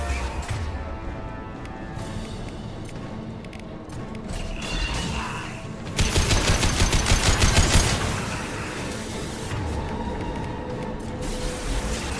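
Gunfire in the sci-fi shooter Mass Effect 2, a steady background of shots and mechanical clatter that swells into a louder dense burst of rapid fire midway before settling back to a busy, continuous battle din.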